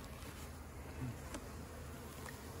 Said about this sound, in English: there's 4 pounds of bees in there